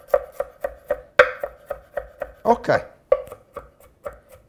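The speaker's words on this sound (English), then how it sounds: "And now we chop a little bit, not too thin." Fresh garlic chopped with a knife on a board, about a dozen crisp, evenly spaced chops close up, with a brief spoken word in the middle.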